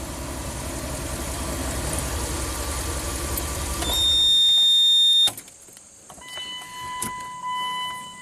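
A Ram camper van engine idles with a steady low rumble, then a brief louder mechanical whir before the sound drops to a quieter hum with faint tonal whines, heard close without talk.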